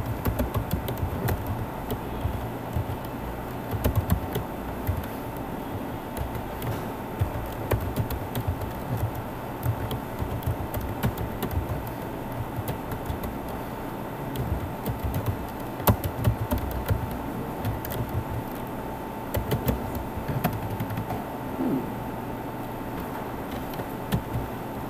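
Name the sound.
typing PHP code on a computer keyboard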